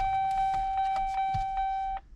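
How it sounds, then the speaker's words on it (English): A GMC Sierra truck's dashboard warning chime beeps steadily right after the key is turned on, a close, clear repeating tone with a rhythmic pulse that lasts about two seconds before cutting off. "Got buzzers"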